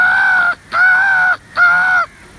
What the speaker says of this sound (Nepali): ल हेर्नुहोस् हेर्नुहोस् माथि हेर्नुहोस् कागहरू आउनु थालिसकेका छन्